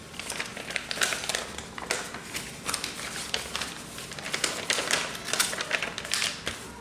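Sheet of sulfite paper being folded along a marked line for foundation paper piecing, a close, soft stream of crinkling, tapping and rustling that runs throughout with no talk.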